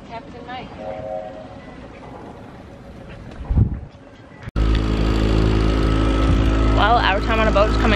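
A rented boat is driven on the water at a Disney World resort, with wind and water noise under talk that gives way to a loud, steady engine drone in the second half.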